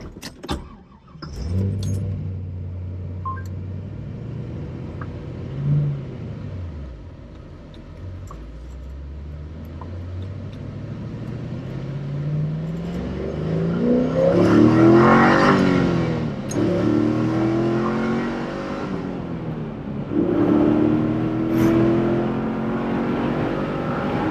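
A C5 Corvette with a manual transmission starts up and accelerates through canyon roads, its V8 climbing through the revs, then dropping at each gear change and pulling again, loud and close from inside, with keys jangling near the start.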